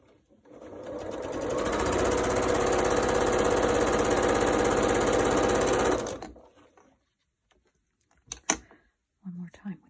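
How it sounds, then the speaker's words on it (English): A sewing machine stitching fabric runs as a loud, fast, steady mechanical whir for about six seconds and then stops, followed by a few short clicks and brief talking. "Let's just get that sewn on there."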